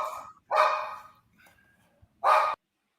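Dogs bark indoors, three sharp separate barks with brief pauses between them, close and loud, with no talking over them.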